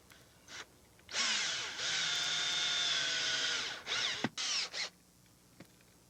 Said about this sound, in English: I'm gonna put the screw in right away so that I can start pinning this board down